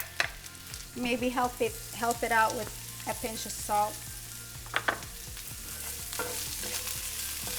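Onions and about five cloves of minced garlic sizzling in a hot skillet for a shrimp dish, a constant crackle beneath a voice talking over it, with a few utensil taps.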